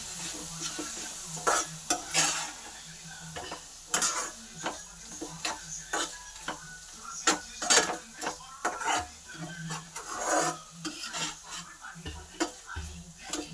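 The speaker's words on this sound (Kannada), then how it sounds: "ಎಣ್ಣೆ ಬಿಡೋವರೆಗೂ ಫ್ರೈ ಮಾಡ್ಕೊಳ್ಳಿ" Okra masala frying in oil in a pan, with a steady sizzle under repeated spoon stirring and scraping clinks against the metal, up close, with occasional talk.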